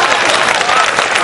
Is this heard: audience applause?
yes